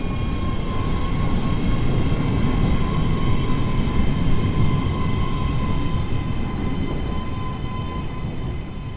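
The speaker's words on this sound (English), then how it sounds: "A train coming in." A train pulling into Haymarket station in the video game Train Sim World 3, a loud steady rumble with a sustained tonal whine holding throughout and easing slightly toward the end.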